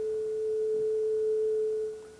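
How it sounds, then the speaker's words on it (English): A single steady sine wave tone from additive sine-wave synthesis holds one pitch for about two seconds, loud and clean against faint background hiss, then fades. "I'm going to show you what the first sine wave sounds like here."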